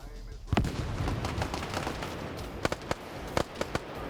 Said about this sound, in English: Grenade goes short.